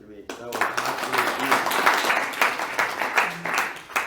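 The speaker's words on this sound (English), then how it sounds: "About a round of applause." Scattered audience applause at a lecture on the Bible, uneven clapping that rises and falls in small bursts at moderate level, with a brief voice at the start.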